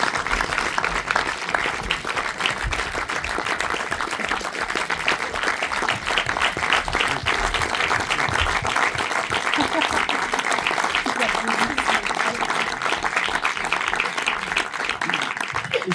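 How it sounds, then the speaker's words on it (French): Sustained, dense audience applause at a special screening in a Pathé cinema, steady and loud throughout with no clear break, filling the room evenly. "Je peux les applaudir quand même très fort."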